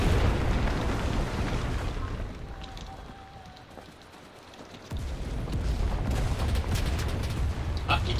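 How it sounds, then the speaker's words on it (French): Weapons fire and explosions from the Enlisted battle game rumble as dense, booming bursts that dip quieter midway before surging back, with scattered sharp cracks and a voice talking over the fighting. "Le bruit des armes est pas pareil."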